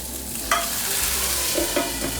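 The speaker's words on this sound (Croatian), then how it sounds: "ovako poklopljeno na užarenu tavu, stavit ćemo samo malo vode i odmah poklopiti tavu" Water hisses on a red-hot pan of prawns under a lid, a steady close sizzle with a few brief bubbling spurts and knocks, with no voices.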